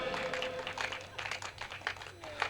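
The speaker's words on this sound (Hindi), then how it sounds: "तालियां कमजोर हैं।" Thin, weak applause from a live audience at a comedic poetry recitation, scattered claps rising and falling in patches over about two and a half seconds.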